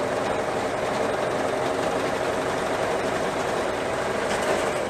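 A serger sews a 3/8-inch seam through t-shirt knit fabric for pajama pants, giving a steady close motor whir with a fast, even stitching buzz that holds for the whole stretch, with no talking.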